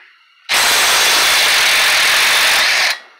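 Impact wrench loosening a strut bolt on a 2013 Fiat 500 Pop, one loud sustained burst of hammering rattle lasting about two and a half seconds, starting and stopping abruptly.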